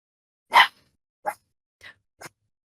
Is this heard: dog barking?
yes